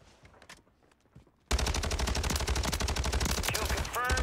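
Rapid MP5 submachine gun fire in Warzone 3, a dense continuous burst of loud shots that starts abruptly after a quieter stretch with faint talk and keeps going to the end.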